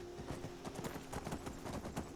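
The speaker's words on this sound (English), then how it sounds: "Turn the horse around." A horse's hooves clip-clop in a steady, quick rhythm in the video game Skyrim, faint and continuous against quiet background ambience, with no talking.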